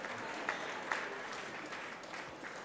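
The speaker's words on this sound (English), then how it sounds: "I know, keep clapping, Vinny." Audience applause at a community gala, a steady moderate wash of clapping filling the hall, fairly even throughout with a few sharper individual claps standing out.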